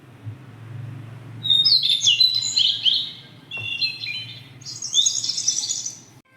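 Bright, close electronic bird chirps from a digital Bhagavad Gita device, played in two clusters of rapid tweets over a low steady hum, with no talking.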